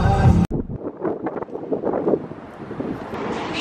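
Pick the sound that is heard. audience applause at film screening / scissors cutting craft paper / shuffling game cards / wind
wind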